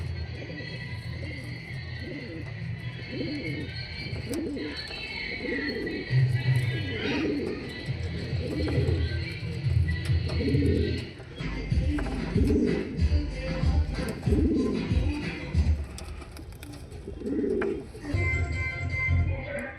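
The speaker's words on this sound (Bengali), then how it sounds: "এই আর একটা পায়রা।" Pigeons at a sale coo repeatedly in low, throaty rolling calls, close and clear, with a few overlapping birds and occasional brief voices in the background.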